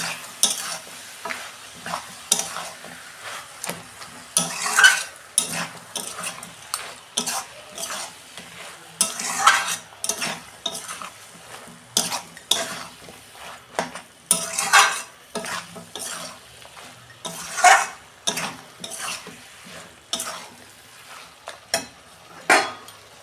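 Cabbage with fish head and a little sugar being sautéed in a pan, with steady rhythmic spatula scraping and stirring strokes over a soft sizzle, close and continuous with no talk.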